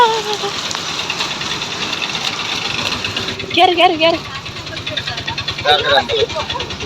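An auto-rickshaw engine runs close by with a low, rapid, steady putter throughout, while people talk over it and the voices grow busier toward the end.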